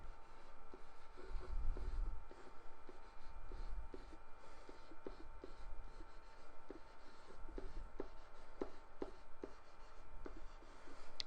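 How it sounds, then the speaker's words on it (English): Pen or pencil writing out a truth table on paper, quiet close scratching strokes and small taps in irregular bursts against a faint background hiss, no talk. "So I'm going to write out all the parts I need."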